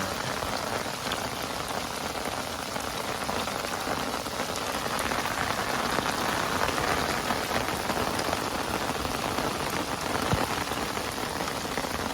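Steady rain falling on a riverbank, a dense, even hiss of drops on surfaces that holds constant and fairly loud throughout with no voices.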